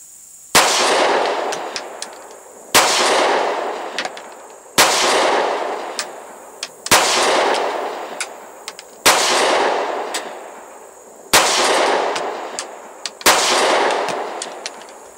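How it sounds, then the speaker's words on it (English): A Kel-Tec PF9 pistol fires aluminum-case Blazer ammunition outdoors. Seven loud, sharp shots ring out about two seconds apart, each followed by a long echoing decay. "I got it loaded up with some of that aluminum case blazer ammo. I don't think I've ever shot any of that out of this little Kel-Tec yet."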